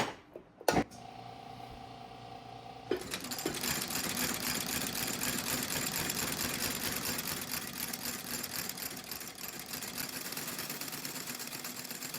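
A sewing machine stitches boot leather: a brief start-and-stop burst early, then a steady, fairly loud whirring run of close stitches that continues unbroken to the end, with no talking.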